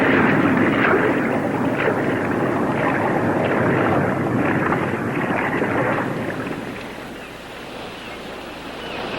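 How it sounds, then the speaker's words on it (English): Underwater, an approaching ship sets up a dense, continuous rumbling wash of vibration that stays steady for most of the stretch and then eases slightly toward the end. "Suddenly, I was aware of a sound vibration. It could be an approaching ship."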